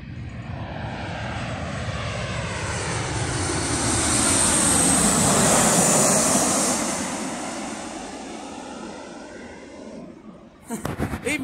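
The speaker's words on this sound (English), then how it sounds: "we've got another plane that's landing" A Jet2 passenger plane coming in to land, its engine roar swelling steadily to a loud peak midway and then fading, with brief handling knocks at the very end.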